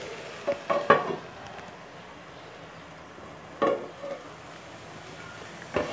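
Idli upma cooks under a lid in a pan with a faint, steady sizzle, broken by a few brief metallic clinks near the start, midway and at the end.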